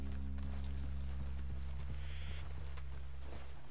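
Horses walk at a slow, even pace in Red Dead Redemption II, with soft, regular clip-clop hoofbeats over a loud steady low hum.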